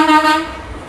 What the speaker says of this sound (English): That truck's got a loud horn.